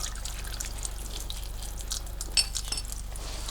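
Fuel draining out of a vehicle tank during a fuel cell install, a faint steady trickle with small drips and clinks over a low background hum.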